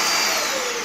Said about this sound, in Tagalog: itong vacuum na to